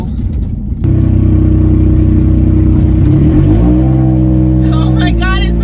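Nissan NV2500 high-roof van with its catalytic converter missing, engine droning very loud and close as it revs up and settles into a steady roar, with a voice briefly audible near the end.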